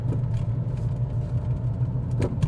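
A Ford Fusion cruising down a rural country road after a steering rack replacement, steady low engine and road rumble heard from inside the car, with a couple of brief knocks.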